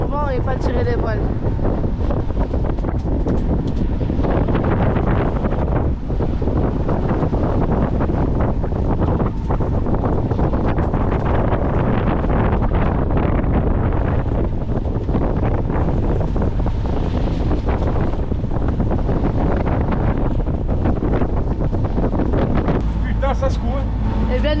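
Strong wind roars across a microphone aboard a sailboat at sea, a loud continuous rush over water and hull noise, with people speaking French underneath.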